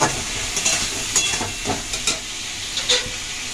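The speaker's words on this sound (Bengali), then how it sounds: "দিয়ে এই মশলাগুলো দিয়ে দেব, দিয়ে ভালোভাবে কষিয়ে নেব।" Spices frying in oil in a pan for a raw green jackfruit curry, a steady close sizzle with scattered scraping knocks as a spoon stirs them, no talking.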